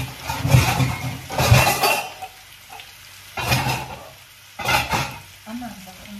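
Food fries and sizzles in a pan, hissing in bursts as it is stirred, close and fairly loud, with quiet gaps between the stirs.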